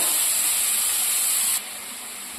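Chopped chickpea greens dropped into hot oil in a pan, giving a loud, steady hiss of sizzling that eases a little partway through, close by with no talk.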